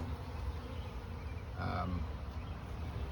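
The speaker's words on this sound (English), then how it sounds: "there's a lot of bees on the outside" A steady, low buzz from many honeybees outside a trap-out cone hums throughout, with a brief louder swell midway as one passes closer.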